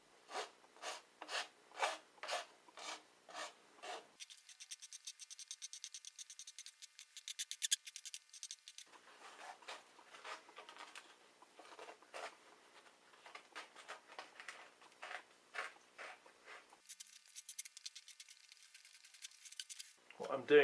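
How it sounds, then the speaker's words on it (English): Coarse sandpaper rubs against a plastic pipe as the pipe is rotated, making steady rhythmic rasping strokes in repeated runs for a homemade Native American style flute. "putting the sandpaper either inside the pipe to do the inside and then rotating the pipe, or putting it on the outside of the pipe and rotating to smooth the outside"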